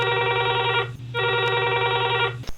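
Telephone bell ringing on a Hindi-language farmers' phone-in radio programme, two loud sustained electronic rings separated by a short gap, ending with a click as the call is picked up.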